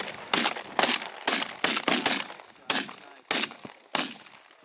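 Shotguns fire repeatedly during a mallard duck hunt in a snowstorm, eight or so loud, sharp blasts in irregular quick succession, some spaced close together and others with brief gaps.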